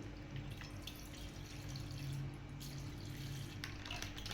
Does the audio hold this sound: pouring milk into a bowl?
yes